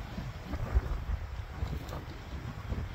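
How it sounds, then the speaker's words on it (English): Steady wind buffets the microphone at Black Diamond Cemetery in Washington State with a constant low rumble and rushing noise, no voices present. "Ooh, the wind's picking up."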